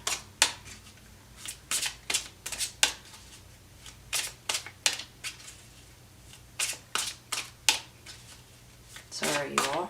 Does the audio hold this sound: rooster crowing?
no